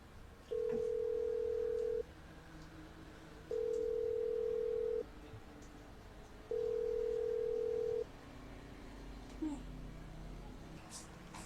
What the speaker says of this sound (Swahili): Ngoja nijaribu kumpigia simu.